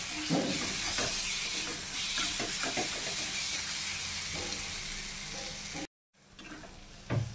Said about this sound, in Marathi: छान तेलावरती वाटणामध्ये असे परतून घ्यायचे।